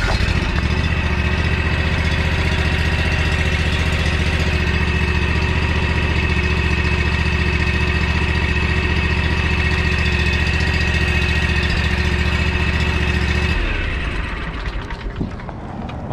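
A John Deere WH48A walk-behind mower engine runs at a steady, loud, close drone, then abruptly cuts off near the end, leaving a brief fading rattle.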